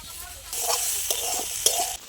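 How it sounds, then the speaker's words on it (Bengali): Vegetables and paneer fry in a pan with a soft sizzle, while a spoon stirs and scrapes in a few short strokes, close up and fairly quiet. "বেশ ভাজা ভাজা হয়ে গেছে।"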